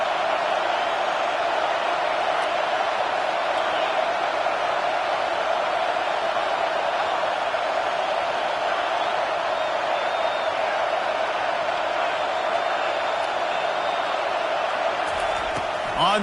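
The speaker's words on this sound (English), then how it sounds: "Man, this crowd really affecting the football game." A home crowd roars at a football game in a dense, continuous wall of noise, loud and distant, with no breaks.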